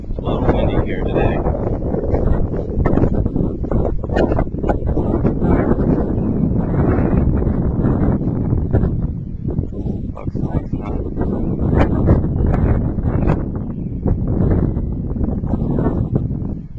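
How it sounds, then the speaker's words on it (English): Steady wind blowing outdoors beside a new stone wall, buffeting the microphone in a continuous loud rumble throughout, with a voice talking over it. "It's a little windy here today."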